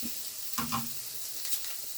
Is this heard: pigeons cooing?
no